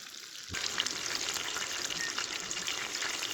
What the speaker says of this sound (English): That's sizzling away.